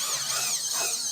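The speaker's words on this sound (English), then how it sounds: "when I'm drilling out these holes" A power drill bores holes through MDF panels for a sealed single 8-inch subwoofer box, giving a steady, shrill whine that stays close and loud for about a second, with no voices.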